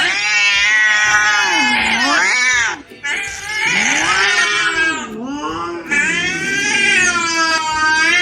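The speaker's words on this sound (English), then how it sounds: "Look who it is. It's neighbor cat." A neighbour's cat meows and caterwauls loudly and close up in a house, with long drawn-out wailing yowls that rise and fall, broken by two brief pauses.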